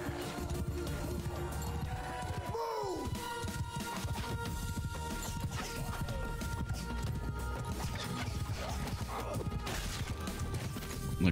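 Horses gallop in a Mount and Blade Bannerlord battle, a dense, fairly quiet patter of clip-clopping hooves amid crashing combat noise, with a brief horse whinny early on.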